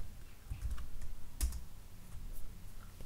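Someone types a private message on a computer keyboard, a soft, quiet patter of irregular keystrokes with a couple of sharper taps.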